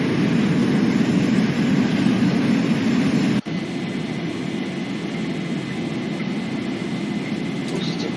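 A simulated Boeing 737 jet in X-Plane 11 rolls down the runway and takes off, giving a loud, steady, broadband engine roar that briefly cuts out for an instant and then continues evenly.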